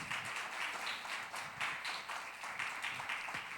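A church congregation at a Sunday celebration service claps for Jesus Christ, a fairly faint, uneven patter of many hands with rhythmic surges, no talk over it.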